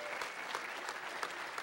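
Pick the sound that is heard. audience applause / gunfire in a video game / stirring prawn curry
audience applause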